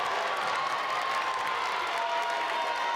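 Home crowd at a high school girls' volleyball match reacting to a referee's out-of-bounds call, a dense, steady roar of voices and some clapping throughout, loud and sustained with no clear individual speech.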